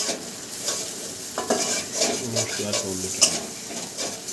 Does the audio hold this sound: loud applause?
no